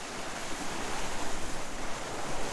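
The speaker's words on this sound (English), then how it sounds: "all you hear is the water." Water waves lapping steadily against the bow of a boat at a city mooring: a continuous close-up wash and slosh with small swells, no talking.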